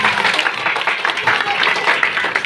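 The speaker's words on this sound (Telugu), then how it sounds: "ఆమెకి గట్టిగా క్లాప్స్ కొడదామా?" An audience at a school event claps for a ninth-grade student: steady, close, lively applause lasting a couple of seconds, with voices mixed in.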